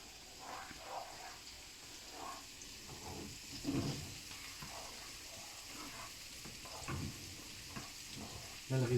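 Creamy shrimp risotto simmers in a pan with a steady, quiet sizzle, broken by short bursts of spoon scraping and stirring at irregular intervals.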